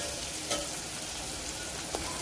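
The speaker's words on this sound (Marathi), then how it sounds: "इथे आपण आता हळद टाकून घेतलेली आहे आणि याला छान असं परतू द्यायचं आहे थोडा वेळ" Turmeric and spices frying in a hot oil tempering for toor dal varan give a steady, close sizzle, with a couple of faint clicks from stirring and no voices.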